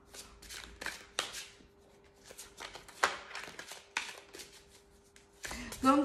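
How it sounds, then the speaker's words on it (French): Cards riffled and shuffled by hand at close range, a series of quick papery flicks and snaps in uneven bursts, with a voice speaking near the end. "On va tirer une carte pour avoir un petit message."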